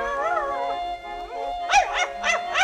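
A dog, part of a staged dance act in a children's audio fairy tale about a white poodle, gives a long wavering howl, then a quick series of four or five sharp, close barks and yips.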